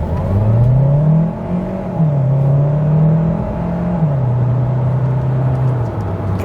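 A 2022 Kia Sorento SX Prestige plug-in hybrid with a 1.6-liter turbocharged engine gives a steady droning whine while slowing under regenerative charging, its pitch stepping down and leveling off, loud and close with no talk.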